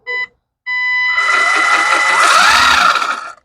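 A Losi Chase Elliott NASCAR RC car's electric motor gives a short whine, pauses, then revs loud and close on a sensitive throttle, its pitch rising and wavering before cutting off.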